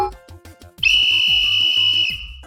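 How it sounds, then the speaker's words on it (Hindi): A loud, steady shrill whistle blows for just over a second, preceded and followed by quieter rhythmic background sounds. "ये आवाज है सीटी की,"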